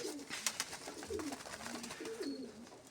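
Domestic pigeons kept for breeding coo softly at close range, with several low, rolling coos repeating at a relaxed pace against a quiet background.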